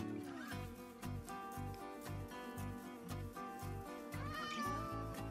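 A Minecraft cat meows a couple of times, rising and falling, over a looping musical soundtrack with a steady beat.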